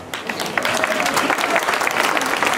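An audience at the Walk for Hope charity walk breaks into dense, steady applause, many hands clapping together close by for a few seconds.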